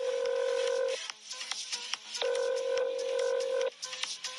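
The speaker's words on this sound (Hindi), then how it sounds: "बारटेंडर ने उस नंबर पर फोन मिलाया।" A telephone number being dialed, two long steady tones each followed by a quick run of short keypad beeps, close and clear with no talk.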